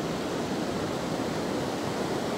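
Steady broadband rush of the Acaraú river flowing in Ceará, Brazil, a continuous, even roar of moving water with no pauses and no voices.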